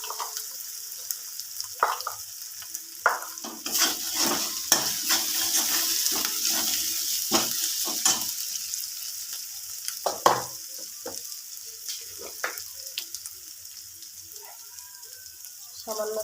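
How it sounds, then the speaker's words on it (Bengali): Ginger and dry spices sauté in a hot pan, a soft sizzle running throughout while a spoon scrapes and stirs in repeated short strokes close by, with someone speaking now and then. "আদাটা কিছুক্ষণ কষিয়ে নেওয়ার পর এটা আমি দিয়ে দেবো শুকনো লঙ্কার গুঁড়ো"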